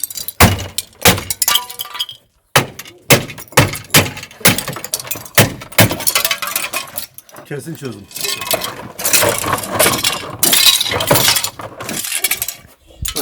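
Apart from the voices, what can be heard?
car tail light being smashed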